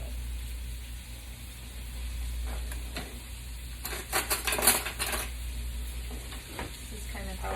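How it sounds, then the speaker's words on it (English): A spoon scrapes the skin off a piece of ginger in a quiet kitchen, making a short cluster of soft, close rasping scrapes in the middle, with no one speaking. "this is kind of how I tend to peel my ginger. Just take a spoon, just kind of scrape off that top"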